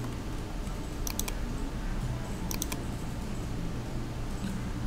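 Computer keyboard keys and mouse buttons click in quick little clusters while building a model in design software, crisp and close, over a steady low room hum.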